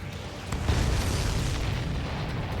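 Missiles explode in the Ace Combat 7 video game, producing a rumbling boom that swells and then holds as a dense, loud low roar.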